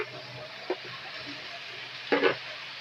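Beans and carrot stir-fry being stirred in a pan, a soft steady sizzle with two brief scraping stir strokes, the second longer and louder, no voices.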